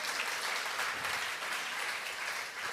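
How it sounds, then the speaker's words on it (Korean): Church congregation applauding together, a steady dense wash of many hands clapping at once, sustained and even throughout with no talk over it. "주님께 영광의 박수 올려드리기 바랍니다."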